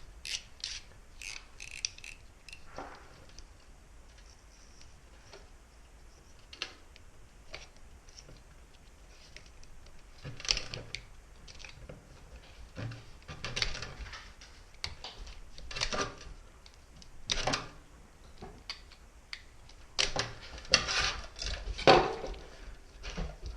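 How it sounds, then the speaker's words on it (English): A utility knife cuts and scrapes the plastic split loom off trailer tail-light wiring, making sporadic short scratchy slicing and rubbing bursts with quiet pauses between them, close and fairly soft, with no talking. "So what I'm going to do is take this split loom off. And the utility knife does come in handy for that."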